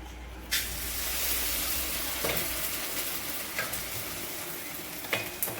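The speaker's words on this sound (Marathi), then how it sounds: "ह्याच्यामध्ये मिरच्या टाकल्यात कांदा बटाटा टाकले कढीपत्ता जिरी मोहरी टाकून दिली" Chillies, onion, potato, curry leaves, cumin and mustard seeds frying for a bhaji, a steady close sizzle and hiss that starts abruptly, with occasional stirring scrapes and small pops and no talk.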